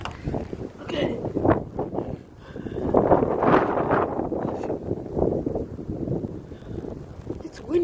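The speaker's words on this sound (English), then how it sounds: "these are some strong winds out here" Strong gusty wind from a blizzard buffeting the microphone through an open window, rising and falling roars with a person talking over it.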